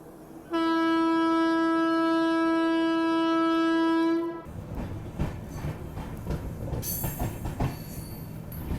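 A train's loud, steady horn blares for about four seconds as a new train departs for Jaisalmer, then gives way to rumbling, clattering carriages and wheel noise close by.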